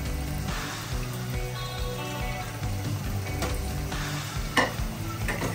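Thinly sliced onions for biryani fry in a pan, a continuous close sizzle with occasional spoon scrapes and one sharper clink as they are stirred.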